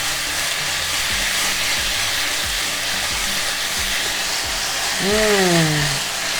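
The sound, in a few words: beef being stirred and tossed, sizzling in the pan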